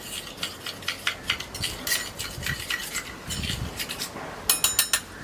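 A spoon scrapes and clinks against a bowl while a potato starch face pack is mixed, with quick repeated taps and stirring rattles, close and fairly loud.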